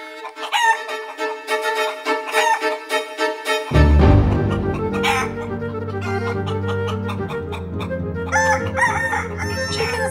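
A rooster crows loudly while chickens cluck, with a musical backing swelling underneath partway through.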